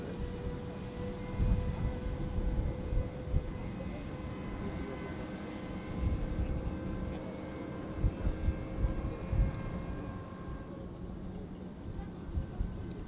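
An airliner taking off from runway 28 at Zurich Airport, a distant steady jet engine roar with rumbling low end, people talking over it.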